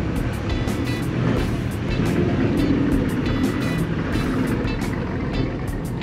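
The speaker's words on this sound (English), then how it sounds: "There's a Mustang" A 1970s Ford Mustang rolls in at a Cars & Coffee gathering in Novato, California, its engine a steady, loud rumble that holds throughout amid general car-show noise.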